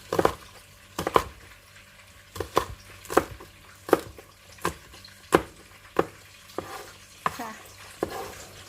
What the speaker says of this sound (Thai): พริกเราจะหั่นเนาะหั่นเป็น เล็กๆนะ หั่นแบบนี้ค่ะ